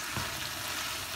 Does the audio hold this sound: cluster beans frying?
yes